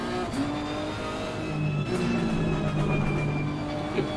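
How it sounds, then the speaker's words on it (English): Race car engine in Assetto Corsa Competizione rising and dropping in pitch through quick upshifts and downshifts, a steady moderately loud drone of revs with brief breaks at each gear change. "The car sounds like a typical Japanese car. With that upshift and downshift."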